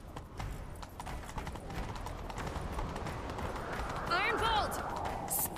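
Horses gallop in The Witcher 3 during a chase, a continuous thudding clip-clop of hooves under game music, with voices calling out and a brief whinny near the end.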